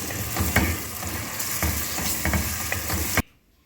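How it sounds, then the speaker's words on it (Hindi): Onions fry in a pan and are stirred. A loud, steady sizzle is broken by scraping stirring strokes, then stops abruptly into near silence. "इधर जी हमारे प्याज भी फ्राई हो रहे हैं।"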